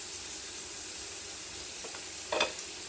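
Short ribs brown in an Instant Pot with a steady, soft sizzle of frying fat, quiet and close, with a brief clatter of stirring near the end.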